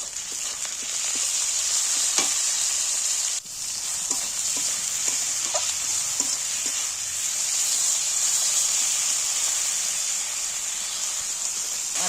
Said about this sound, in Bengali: আদা রসুন টমেটো সব ভাজা হয়ে গেছে